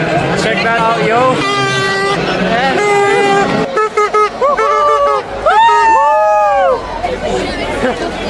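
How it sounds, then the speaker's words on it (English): Large crowd of football fans out in Madrid during the World Cup final, dense chatter and cheering with sustained chanting and sung voices close by, plus people talking near the microphone. "Look at that crowd."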